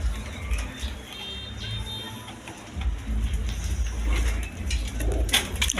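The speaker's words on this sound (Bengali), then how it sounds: "একদম ছটপটা কবুতর দেখেন" Fancy pigeons coo in low, soft repeated calls amid a busy background of rustling and murmur, moderately close.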